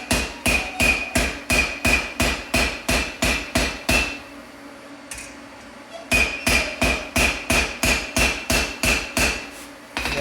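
Hammer blows ring out on hot steel while forging a bottle opener, a fast steady run of loud, close metallic strikes that pauses for about two seconds and then resumes at the same rhythm.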